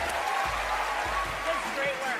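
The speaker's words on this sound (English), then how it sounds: "A small round of applause." A small round of clapping from a group during a magic act on America's Got Talent 2014, steady and moderately loud, with some voices and background chatter mixed in.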